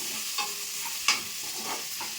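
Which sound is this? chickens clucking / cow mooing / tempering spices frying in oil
tempering spices frying in oil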